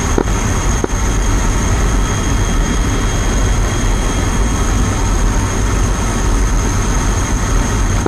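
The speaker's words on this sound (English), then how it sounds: "Sally helicopter running in." A helicopter engine in the combat flight game DCS World drones loud and steady, with a dense low rumble and a faint whining tone held throughout, no voices.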